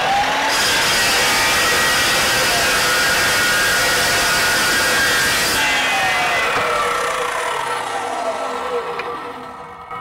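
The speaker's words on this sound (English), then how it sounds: "So I just cut the stud." A power tool cuts through a threaded metal stud with a loud, continuous high-pitched grinding whine that holds steady for several seconds, then eases off and fades as the cut finishes.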